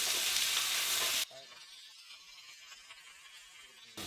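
Pepper steak ingredients hitting a hot pan: a loud burst of hissing sizzle that drops after about a second to a steadier, quieter crackling fry, with a fresh surge at the end.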